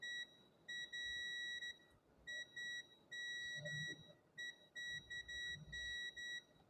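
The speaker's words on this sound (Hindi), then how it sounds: "ये एक ही लाइन है, जैसा कि अगर आपको दिख रहा हो तो इसलिए यहाँ पर बजर आ रहा है।" A continuity buzzer sounds while a phone circuit line on a Vivo Y15 board is tested. It gives a run of sharp, high electronic beeps, some short and some held, starting and stopping irregularly over a faint background hum.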